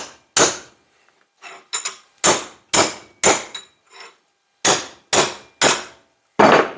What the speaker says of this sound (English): take my hammer, and I'm going to give it a couple whacks